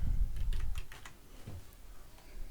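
Password being typed on a computer keyboard, a quick run of light key clicks close by, followed by a few more scattered taps over a low background rumble.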